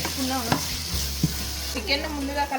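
Tomatoes fry and sizzle steadily in a pot for chicken biryani, with a few clinks and scrapes of a stirring spoon over a low background hum.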